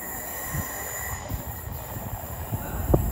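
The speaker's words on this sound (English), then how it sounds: "coming in now will be a Southern service to Portsmouth" A Southern electric service, unit 313217, running in to Portsmouth Fratton station, with steady rail rumble, repeated wheel thumps and a high wheel squeal rising near the end, fairly close and loud.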